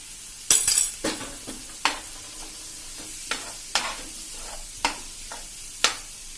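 Masala with salt and red chilli frying on a tawa, a low background sizzle punctuated by several sharp scrapes and clinks of a spatula stirring at irregular intervals.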